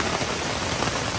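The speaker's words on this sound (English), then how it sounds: "it's hailing now" Hail and rain falling outside at Hanging Rock State Park in North Carolina, a loud, steady hiss of drops pelting surfaces with no voices.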